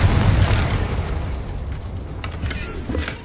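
A Confringo blasting spell goes off in a Harry Potter video game, a loud, low booming burst at the start that rumbles and decays over a few seconds, with faint crackling bits afterward.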